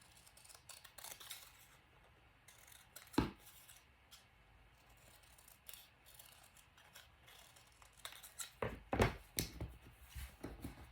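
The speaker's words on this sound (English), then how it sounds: "Take a pair of scissors and cut that out." Scissors cut out a traced paper piece at a scrapbooking craft table, giving quiet, sparse snips and clicks, with a busier cluster of cuts near the end.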